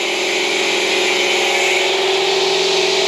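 A continuous, loud whirring of a power sander grinding steadily on a car wing of a scrapyard Peugeot under restoration, close up and unbroken for a few seconds.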